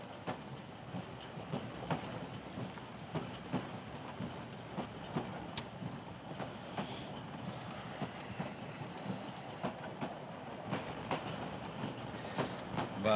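Train running on rails in a 1941 Hungarian film set in the mountains, heard as a steady rolling rumble with a repeating clickety-clack of wheels over rail joints, moderately loud and continuous with a wind-like hiss and no talk.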